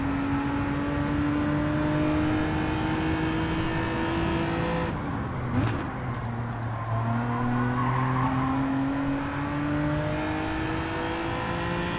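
A race car in the video game Gran Turismo 7 holds a loud, sustained engine whine, with a short dip and shift partway through before the revs climb again.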